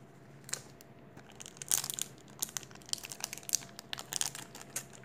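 Crinkling and tearing of a Pokémon card pack's foil wrapper being wrestled open, a series of sharp, close crackles and rips in irregular bursts over a quiet background.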